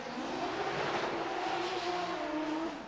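Adam LZ's Drift HQ BMW drift car during a 2024 championship run, its engine roaring at high revs and holding a sustained wail as it sweeps past at moderate distance.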